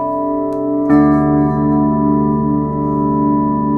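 A sustained guitar chord in D Dorian rings out over a low D bass note, with a fresh strum about a second in, then holds steadily without talking.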